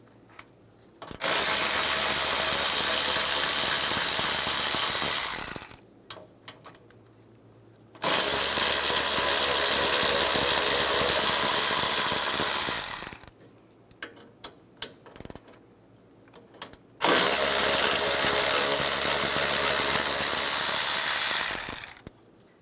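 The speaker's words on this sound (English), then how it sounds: "Take a 10mm socket, and there's 3 bolts holding the latch on. Take those off." Three bolts on the radiator support latch of a 2007-2013 Chevrolet Silverado are spun out with a 10mm socket, heard as three loud, sustained bursts of a power tool, each several seconds long, separated by quiet pauses with faint handling clicks.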